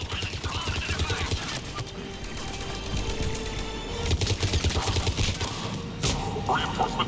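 Gunfire in a Mass Effect 3 battle crackles in rapid automatic bursts under a dense, noisy combat mix, staying steady and fairly loud throughout.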